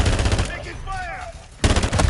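Video game gunfire in Modern Warfare III: loud bursts of shots open the clip, break off into a quieter stretch with a short shout and whistling game sounds, then return as a close, heavy volley of rapid fire.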